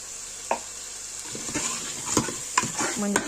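Crab curry masala with turmeric sizzles in a pan while a spoon stirs it, making close scraping and clinking sounds over a steady frying hiss.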